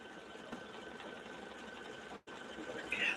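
A sewing machine stitches a wedding quilt with a continuous fast whirring rattle at a quiet level, briefly stopping for an instant before running on steadily.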